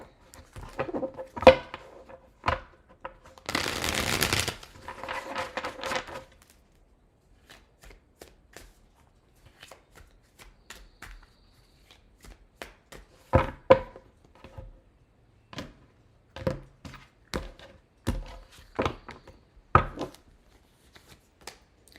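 Tarot deck shuffled by hand, with one dense burst of riffling early on followed by many soft, separate taps and flicks as cards are handled and laid down. No one talks.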